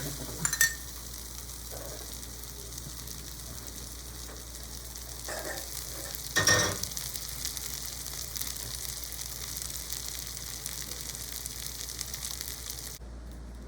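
Ingredients for a thuvaiyal sauté in a pan, giving a faint, steady sizzle that runs throughout, with a few soft clatters of stirring and no talking.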